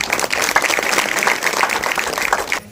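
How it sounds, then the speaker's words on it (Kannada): A crowd applauding loudly at a village farmers' association event, dense clapping sustained for a couple of seconds before stopping abruptly. "ಚಪ್ಪಾಳೆ ಬಂದ"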